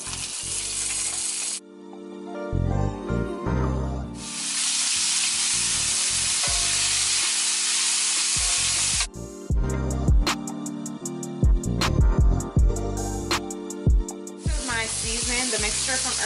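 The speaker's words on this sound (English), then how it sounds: "I'm gonna add my green beans in to saute them" Green beans sautéing in a skillet with lamb chop drippings, a loud continuous sizzle broken by short pauses and clattering stirs against the pan.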